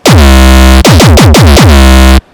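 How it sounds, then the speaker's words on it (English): A loud, heavily distorted synthetic dancecore kick drum sounds in a rapid burst of booming, buzzing hits, then one long sustained hit that cuts off abruptly. "for example, my kick, it's gonna sound like this."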